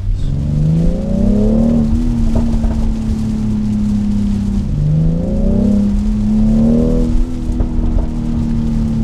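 A BMW X3 M40i SUV engine accelerates loudly from inside the cabin, rising in pitch through gears with two distinct shift drops, a strong steady drone with no talking.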